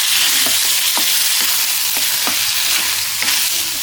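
Liver stir-fries with chili paste, spring onions and chilies in a hot pan, a loud continuous hiss with rhythmic spatula strokes roughly every half second.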